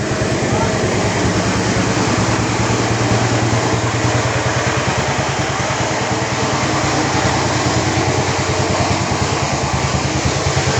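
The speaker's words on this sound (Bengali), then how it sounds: "এটা হচ্ছে জেনারেটরের শব্দ শোনা যাচ্ছে।" A generator running in a flooded village in Sonaimuri, Noakhali, drones steadily and loudly with a low rhythmic engine pulse, and faint voices sit underneath it.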